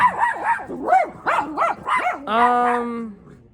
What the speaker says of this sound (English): Yeah, there's dogs in the background.